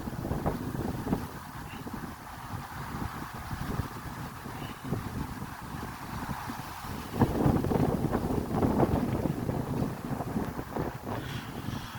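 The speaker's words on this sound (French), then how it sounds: "Il y a un peu de vent aussi" Wind blows hard and steadily across an outdoor beach soccer field, buffeting the microphone with a constant rough rumble for the whole stretch and no voices.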